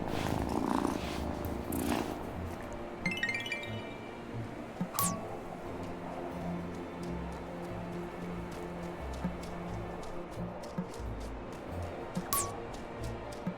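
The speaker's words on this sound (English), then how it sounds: "Oh, such a good cat." Cat purring in the video game Wylde Flowers, a soft continuous rumbling purr that runs throughout, close and gentle, with a few faint clicks and taps scattered over it.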